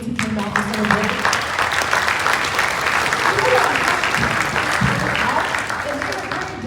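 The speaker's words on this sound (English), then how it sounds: "can we get a round of applause for those kids who came out for Summer Bridge?" An auditorium crowd claps steadily for students at a high school freshman orientation, dense sustained applause lasting throughout with some cheering mixed in.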